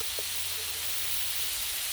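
Minced garlic spooned onto a hot griddle for chili gives a continuous close steamy hiss and sizzle, even and unbroken for the short moment, with no talk.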